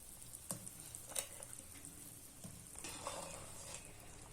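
Soya koftas dropped one by one into sizzling curry masala in a pan, giving a faint, close frying hiss with a few soft plops and brief bursts of sizzle.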